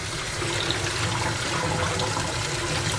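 Running water pours steadily over a tie-dyed shirt during rinsing, a continuous close splashing wash like a tap or sink filling, with no talk.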